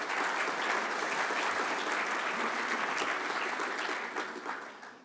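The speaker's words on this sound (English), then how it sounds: "we'll give him a round of applause straight away for that" An audience at the opening of an aviation symposium breaks into a sustained round of applause, dense steady clapping that holds for several seconds before tapering off near the end, with no talk over it.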